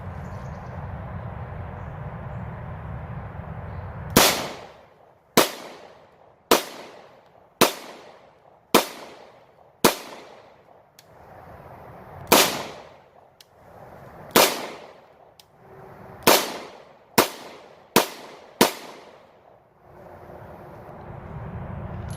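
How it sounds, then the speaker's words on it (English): Taurus TH9C 9mm pistol firing 115-grain ball ammunition in double action, about a dozen loud, sharp shots at irregular intervals, each ringing out outdoors over a low background rumble. "So we'll decock this one and then we'll shoot it off of double action."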